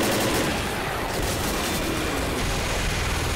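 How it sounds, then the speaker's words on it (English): Sustained, dense gunfire in Left 4 Dead, a continuous loud crackle of machine gun bursts filling the whole stretch with no clear gaps, with faint voices mixed in underneath. "Machine gun, whatever."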